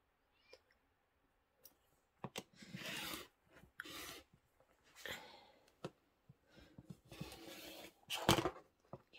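Rotary cutter slicing quilting fabric along a ruler for a pillow, heard as quiet, close rasping strokes in short bursts separated by soft clicks and handling noises.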